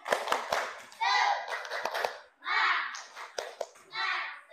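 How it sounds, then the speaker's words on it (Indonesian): Children in an Indonesian classroom clap a rhythmic cheer, sharp claps in quick patterned bursts alternating with a teacher's voice and children chanting together. "Beri tepuk tangan anak-anak."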